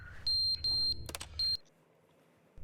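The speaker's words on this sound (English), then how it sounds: "No, there's a smoke alarm going off." A smoke alarm sounding indoors in three shrill, high-pitched electronic beeps, the second longest, with a clatter of background noise between them before the room falls quiet.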